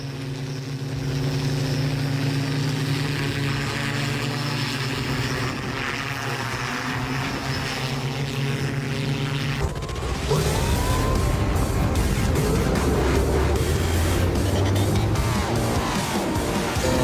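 Dubai police flying bike, a hoverbike, in flight during training, a loud droning hum with steady tones, then a harsher, rougher roar of rotors and wind after the midpoint.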